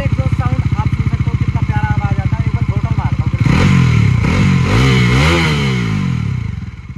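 A 2023 Bajaj Dominar 400 motorcycle engine idles with a fast, even thump, then revs up loudly in several rising and falling blips before settling back, close and prominent.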